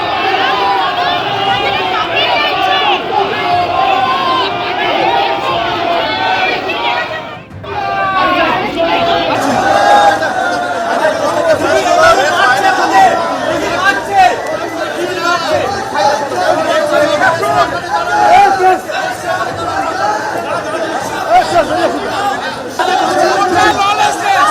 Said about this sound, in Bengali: চোর চোর স্লোগান দেন আইনজীবীদের একাংশ।